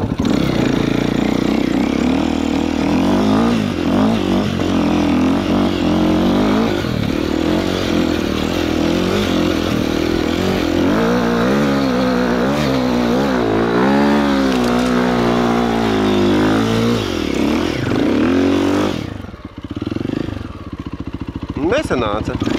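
A motorcycle in a quarry runs continuously at close range, droning and revving with rising and falling pitch before cutting out near the end, while a voice talks over it.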